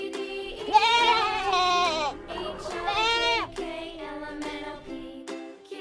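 A goat bleats in a children's phonics alphabet song, a series of wavering, tremulous cries repeated several times over a steady backing tone, loud and close.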